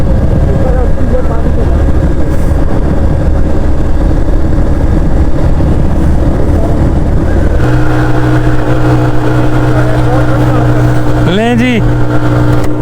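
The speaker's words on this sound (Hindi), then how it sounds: "होंडा का ये पता नहीं क्यों मसला है यार, अजीब किस्म का ही रोला है, इतनी मिसिंग करता है।" A Honda CB150F motorcycle with a misfiring engine on a mountain road toward Babusar Top, running loud and close. The engine note shifts partway through into steadier droning tones, and a brief rising whine sweeps in near the end.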